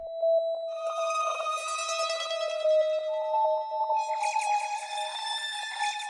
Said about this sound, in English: Then I added this tiny counter melody.